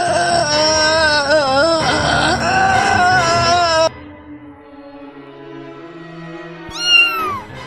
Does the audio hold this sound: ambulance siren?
no